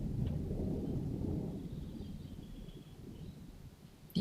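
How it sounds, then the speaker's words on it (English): Distant thunder from an approaching thunderstorm rolls as a low, muffled rumble that slowly fades over several seconds, faint and heard alone. "We're about to get a thunderstorm here."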